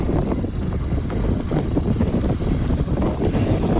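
Strong wind blows steadily outdoors along a road on the way to a waterfall near Pune, a loud, continuous low buffeting roar against the microphone with no voices.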